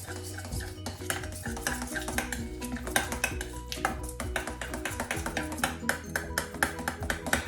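A spoon stirs a coconut macaroon mixture with added vanilla in a bowl, giving steady scraping and clinking strokes with a repeated rhythm, close and fairly loud, with music playing throughout.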